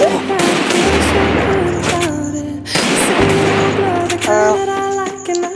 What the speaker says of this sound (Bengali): এইভাবে খেলবা দেখবা ইজিলি তোমাদের হেডশট লাগবে